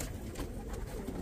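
Pigeons coo softly in a steady low murmur, with no talk over the calls.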